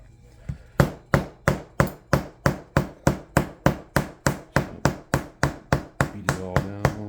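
A hammer beats down the stitching on a leather card wallet: about eighteen sharp, evenly spaced strikes, close and loud, played alone.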